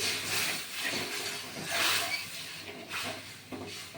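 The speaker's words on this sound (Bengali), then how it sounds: "আচ্ছা এবার আমি জল দিয়ে দেবো হ্যাঁ দেখুন জল দিয়ে দেবো" Water poured into a pan of mushroom curry, a soft steady hiss and sizzle rising and falling, fairly quiet and close, with no talk over it.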